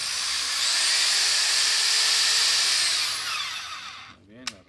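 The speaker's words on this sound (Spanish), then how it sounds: "Vamos a poner rotomartillo." A Bosch GSB550 drill runs in hammer drill mode with a loud, steady, high whine for about three seconds, then winds down. A short voice follows.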